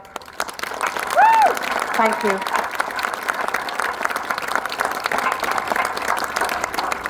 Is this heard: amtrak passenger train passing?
no